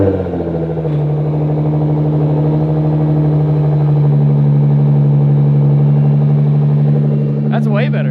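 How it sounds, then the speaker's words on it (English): Nissan GT-R fitted with a BOOSTLOGIC 4.5-inch titanium exhaust settles into a loud, deep cold-start idle after firing up, droning steadily and close, with a brief voice near the end. "first startup. Cold start."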